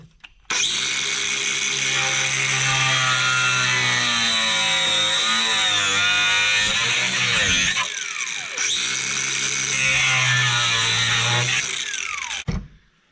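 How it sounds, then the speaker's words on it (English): An angle grinder whines loudly at close range, cutting metal during installation of a 12,000-pound Badland Apex winch, in two long sustained passes separated by a brief dip in pitch. "The reason I'm using an angle grinder is because I don't have a Dremel."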